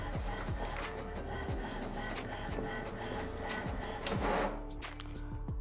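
An HP Ink Tank Wireless 416 printer runs through a print job, its feed mechanism whirring steadily with repeated mechanical clicks and sweeps, close by with no talking.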